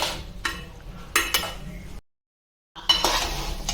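Utensil stirs egg noodles in a pan, clinking and scraping in short bursts, with a brief silent gap before the stirring resumes, close and fairly quiet.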